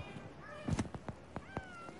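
A Bengal cat meows faintly in a TV talk-show studio, giving a few short, quiet calls mixed with small clicks and soft background noise.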